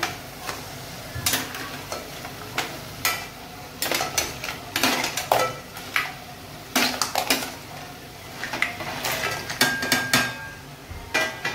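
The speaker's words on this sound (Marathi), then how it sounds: "आता आपल्याला याच्यात टाकायचे चिंबोरी बघा" Fresh creek crabs tipped into thick chicken-style masala gravy in a cooking pot, with scattered clattering knocks and scraping stirs of a spoon against the pot over a low sizzle, irregular and close.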